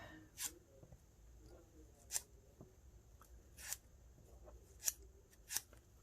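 Scissors snipping paper to round the corners of small wings on a junk journal pocket, five sharp separate cuts spaced a second or so apart over quiet room tone.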